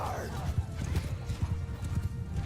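Mounted horse archers gallop across a Bannerlord battlefield, rapid clip-clop hoofbeats drumming steadily at close range through the whole stretch with faint battle noise behind.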